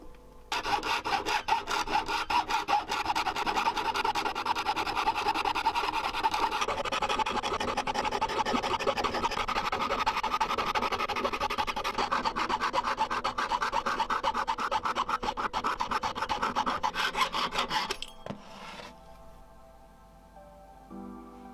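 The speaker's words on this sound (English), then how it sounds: "We can then saw the marked section off" A saw cuts through a silver sheet with fast, steady rasping strokes, close and continuous, then stops abruptly near the end, followed by faint handling noises.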